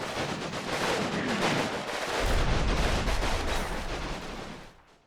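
Rapid machine-gun bursts and heavy gunfire from the World War II battle game Combat Mission: Stalingrad, loud and continuous with dense rattling reports and distant booms, no talking, fading out at the end.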